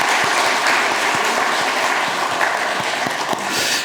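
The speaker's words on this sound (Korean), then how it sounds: "우리 다시 한번 큰 박수 하겠습니다." A church congregation at a Sunday morning service claps steadily and loudly throughout, a dense wash of applause with distinct individual claps standing out.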